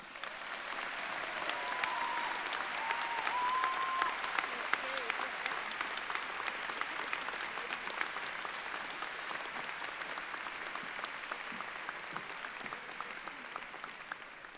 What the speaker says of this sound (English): Let's give Dave another round of applause.